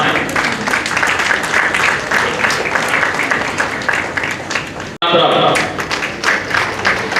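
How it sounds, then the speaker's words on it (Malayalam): An audience at a Muslim League ceremony in Thalassery breaks into dense, sustained applause with a voice over it, cutting off briefly near the end before the clapping swells again. "കൈയടിക്കുക, കരഘോഷം ഉയരട്ടെ."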